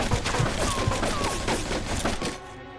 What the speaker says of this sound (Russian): Берегись, они сверху палят!